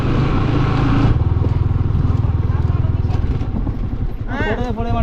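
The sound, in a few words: motorcycle riding on hill road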